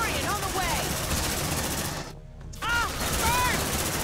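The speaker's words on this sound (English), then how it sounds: "Good shotgun work. Nice shooting." Rapid gunfire and shotgun blasts sound in the sci-fi video game Aliens Dark Descent, a dense, loud, continuous barrage with a brief dip midway, mixed with game effects and voices talking over it.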